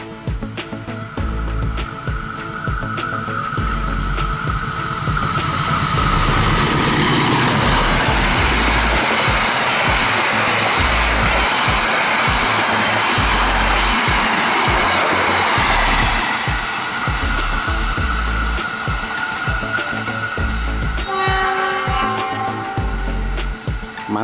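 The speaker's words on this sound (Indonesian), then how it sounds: "Mantap teman-teman, kereta kelas Argo." The Argo Wilis express train in Indonesia roars past at speed, a loud sustained rush of wheels and wind that swells, holds, then fades as the cars go by.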